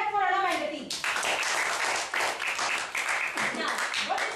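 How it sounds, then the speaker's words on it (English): Classroom audience at a school event clapping together, a brisk sustained patter of many hands following a brief voice at the start. "Clap for Anna and the team"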